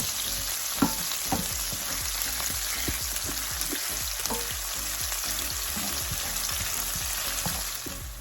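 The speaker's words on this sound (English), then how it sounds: "Mix it on medium heat so you don't want to burn the vegetables." Vegetables with garlic and hot pepper fry on medium heat in a pan, giving a steady close sizzle with repeated scraping knocks as they are stirred, and no talking over it.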